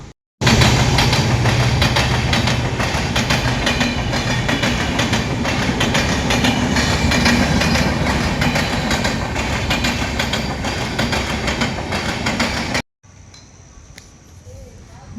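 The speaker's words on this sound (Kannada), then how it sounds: "ನಾರ್ಮಲ್ ಟ್ರೈನ್ ಅನಿಸುತ್ತೆ" A regular, non-metro train rumbles past loud and close with steady clattering for several seconds, then cuts off abruptly to quiet background hum.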